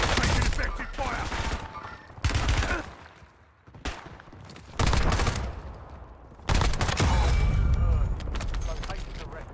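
Video game firefight with bursts of rapid gunfire and booming shots that come in loud clustered volleys separated by short lulls, with voices talking over the action.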